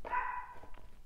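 A single dog gives one drawn-out, whining bark or yelp, fairly close and moderately loud, with a couple of fainter trailing sounds after it. No one speaks.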